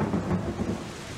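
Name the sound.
heavy downpour rain with thunder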